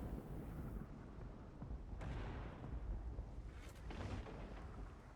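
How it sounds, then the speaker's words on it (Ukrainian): Artillery shells from a tank video game strike a heavy tank, heard as faint, distant rumbling booms and low thuds rolling under a dull background wash. "Зато арта кидає по важкому танку."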